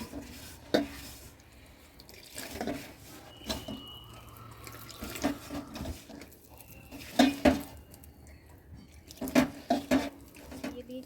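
Rice flour being worked into hot water in a bowl, with scattered clinks of a spoon or hand against the bowl, soft wet mixing and faint watery sounds, close and moderately quiet with no talking.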